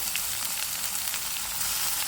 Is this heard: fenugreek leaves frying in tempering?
yes